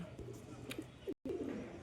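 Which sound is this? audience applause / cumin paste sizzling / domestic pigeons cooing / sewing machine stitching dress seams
domestic pigeons cooing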